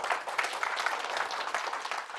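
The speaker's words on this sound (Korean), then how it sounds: "그러면 힘찬 박수를 부탁드립니다." An audience at a Namhansanseong appreciation society meeting gives hearty applause to welcome Professor Lee Hong-do, brisk continuous clapping from a modest crowd.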